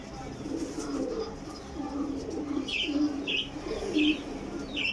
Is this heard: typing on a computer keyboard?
no